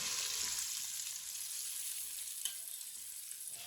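Sliced onions for biryani fry in hot oil, a steady, close hiss and sizzle that runs throughout with faint stirring noises and one brief clink.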